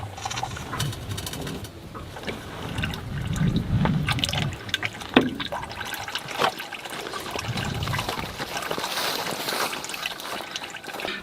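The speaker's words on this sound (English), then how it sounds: "quite a bit of oil fell again as soon as I move the wheels" Power steering fluid dripping and trickling out of a Mercedes-Benz W123 steering system as the wheels are moved, a soft uneven liquid patter and dribble with faint workshop background, no speech.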